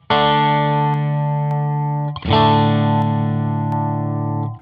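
Electric guitar run through a free amp plugin with a 1K mid boost gives a honky, nasal tone: two long sustained chords, the second struck just after two seconds, close and loud, no voices.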